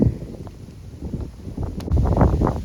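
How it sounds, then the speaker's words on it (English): Gusty wind buffeting the microphone outdoors in Ratlinghope, Shropshire, England, a low continuous rumble that swells stronger toward the end, with no speech. "Quite windy today"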